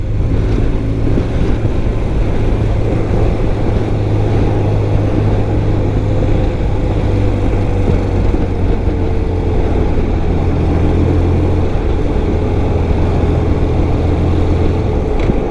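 A 1993 BMW R100GS motorcycle engine running loud and steady while downshifting from fifth to fourth gear, a dense low rumble with engine pitch slowly shifting, heavy wind noise throughout.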